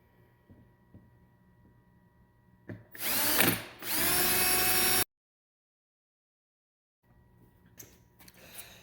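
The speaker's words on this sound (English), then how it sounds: "now what I'm going to do is I'll drill another hole right here" Power drill boring a hole through a wooden cabinet, a sudden loud whirring burst lasting about two seconds that cuts off abruptly, with quiet shop ambience before and after a stretch of silence.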